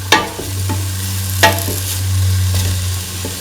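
Tofu pieces drop into a hot pan and are stirred, giving a few sharp clatters of the spatula over a steady sizzle; no one speaks.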